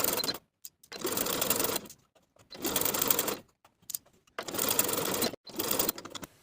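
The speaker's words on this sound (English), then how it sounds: "Sew close to the upper inner fold all the way around." A sewing machine stitches around the rolled hem of a flutter-sleeve midi dress in four steady bursts of fast, close mechanical whirring, each separated by short pauses, with no talking.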